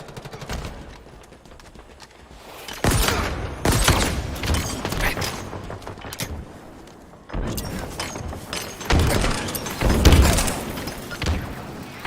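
Explosions and gunfire in Halo Infinite combat: repeated heavy booms and sharp bursts arrive in two loud clusters, with a quieter stretch between, no voices heard.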